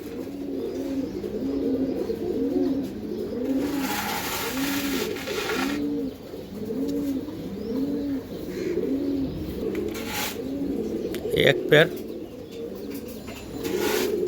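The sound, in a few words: cooing of high flyer pigeons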